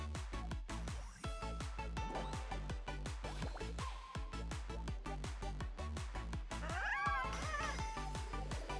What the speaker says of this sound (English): don't the cameras sound so cute? They go like... they sound like little cats